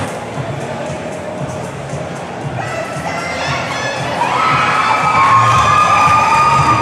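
A ringside boxing crowd roaring and cheering, a loud, continuous wall of voices that swells and grows louder in the second half, with shrill whistles or shouts rising above it.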